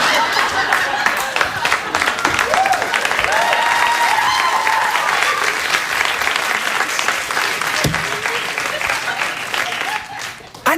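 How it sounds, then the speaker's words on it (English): Studio audience at a late-night talk show applauding steadily, with scattered cheers and whoops mixed in, under a voice speaking, before the clapping fades near the end. "And they've just applauded that."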